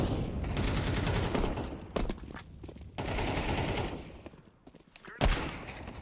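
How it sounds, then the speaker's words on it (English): Rapid Desert Eagle shots in a Counter-Strike 2 match, loud and close, firing in dense bursts with brief gaps between volleys and a sharp final crack near the end. "this guy's going crazy with the deagle too"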